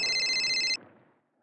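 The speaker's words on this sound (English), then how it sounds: "My cell phone rang." A cell phone rings with a bright electronic trill that plays loud and close for under a second, then cuts off and leaves a fading room tail.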